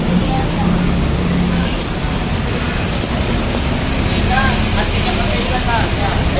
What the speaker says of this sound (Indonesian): Ini saya suka dengan bus ini ya.